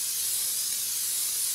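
Brake cleaner spraying through a spray nozzle, a steady, loud, close hiss that holds unbroken for the whole stretch with no voices.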